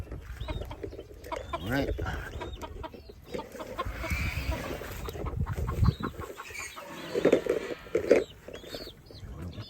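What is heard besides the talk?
native egg-laying chickens clucking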